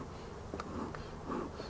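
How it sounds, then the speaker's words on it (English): Honey bees from a busy double brood chamber hive hum steadily at close range, with brief louder passes as individual bees fly near, and no voices. "Here's another double brood chamber colony. They're getting busier now."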